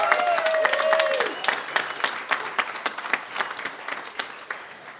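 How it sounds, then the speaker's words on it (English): Wedding reception guests at a golf and yacht club applauding the bartenders, a full round of clapping that swells, then thins into scattered claps, with a brief voice at the start. "let's have a round of applause for them"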